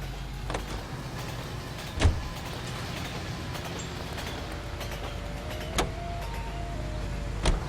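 A car driving in L.A. Noire, a steady low engine rumble with road noise, broken by a few sharp clunks and knocks, no talking.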